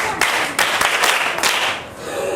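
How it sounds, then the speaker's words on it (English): Pupils in a school classroom applaud a classmate: a short, close burst of many overlapping hand claps that fades slightly at the end. "Clap for her."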